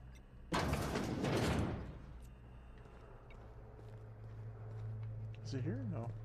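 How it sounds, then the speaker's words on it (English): In the video game The Outer Worlds, a door shuts with a loud burst of metallic sliding and a thud that lasts about a second. Quiet game ambience follows, and a brief tonal chirp comes near the end. "Let's close that door though."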